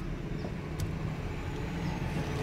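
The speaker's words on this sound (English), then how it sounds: "A lot of traffic." Steady road traffic with cars rolling past on a busy street near a construction area, a continuous close low rumble of engines and tyres with no talking.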